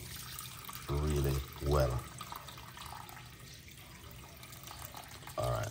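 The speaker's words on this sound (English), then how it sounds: "The water doesn't run fast, like water is running a little bit slow at the moment." Tap water trickles slowly into a cup in a home kitchen, a steady soft hiss running throughout while a voice speaks briefly over it.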